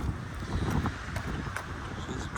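Continuous wind buffets the microphone with a low rumbling roar in a backyard among tapped maple trees, broken by faint rustles.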